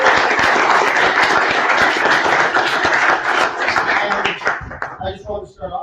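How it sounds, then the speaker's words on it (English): Audience at a short-film program applauds steadily with dense clapping, fading toward the end as scattered claps and a few voices remain. "let's give a round of applause again for the Shorts"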